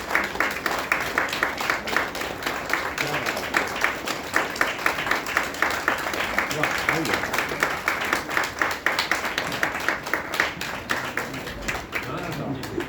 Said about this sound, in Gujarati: હું માઇક ફરી વાર પકડું નહીં ત્યાં સુધી તાળીઓ ચાલુ રાખો